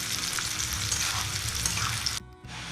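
Onions fry in hot oil for beresta, a continuous bright sizzle with stirring scrapes, loud and close, briefly dipping near the end before the sizzle resumes; no one speaks.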